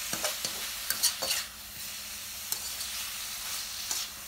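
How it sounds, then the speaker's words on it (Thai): Southern Thai curry paste is stir-fried with shredded kaffir lime leaves in a pan, giving a steady close sizzle broken by brisk scraping stirs, with no voices. "โรยใบมะกรูดหั่นฝอยลงไปค่ะจากนั้นก็ผัดต่อค่ะ"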